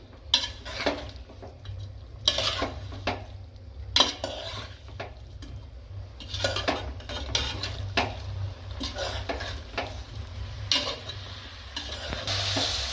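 A spoon scrapes and clatters steadily through a patarveliya tempering in a pan over a low flame. A soft, continuous sizzle runs underneath, close and fairly loud, with no talking.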